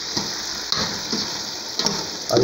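Chicken browning in a hot pan gives a steady close sizzle and crackle, with a few brief stirring scrapes and spatters over the constant frying hiss.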